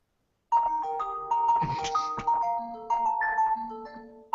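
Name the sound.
mobile phone ringtone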